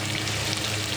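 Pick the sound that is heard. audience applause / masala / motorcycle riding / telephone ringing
masala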